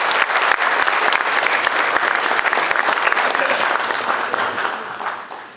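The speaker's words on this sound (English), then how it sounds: "so a big round of applause for you" A lecture audience gives a big round of applause, loud sustained clapping from many hands that fades slightly toward the end, with nobody speaking.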